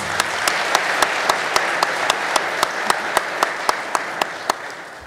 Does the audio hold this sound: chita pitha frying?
no